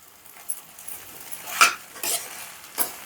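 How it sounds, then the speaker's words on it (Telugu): A chapati and poha laddu mixture stirred in a pan, a handful of distinct scrapes and clinks of the spoon against metal over a faint background, close and sparse, with no voices. "కలుపుకోవాలి మంచిగా, అదంతా అలా కలవాలి"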